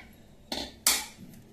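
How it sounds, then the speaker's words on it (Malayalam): Washed pieces of beef dropped into a pressure cooker, two quick close thuds and clatters against the metal pot, the second louder, with no talk. "കഴുകി വെച്ചിരിക്കുന്ന ബീഫ് ഇട്ട് കൊടുക്കുകയാണ്."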